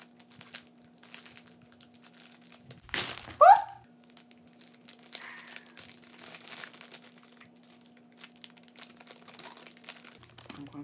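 Plastic packaging from a vacuform Slappy mask crinkles and crackles as it is handled close by, with one louder crumpling burst early on and lighter rustling afterward over a steady low hum.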